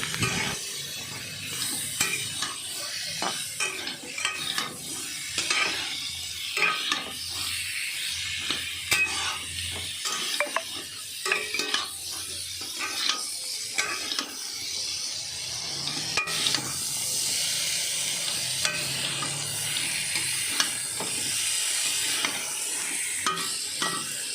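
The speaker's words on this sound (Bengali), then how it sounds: "তো দেখো সুন্দর করে কষাচ্ছি আমি।" Vegetables sautéing in a home kitchen pan, a steady sizzle with repeated scraping stir strokes over about twenty-four seconds, close and fairly loud, no talking.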